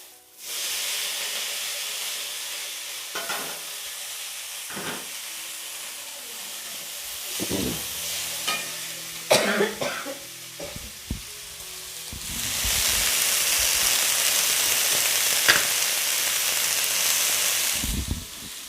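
Steady hissing sizzle of boiled, drained cluster beans stir-frying in a hot pan, with scattered clinks and scrapes of stirring; the sizzle swells louder toward the end.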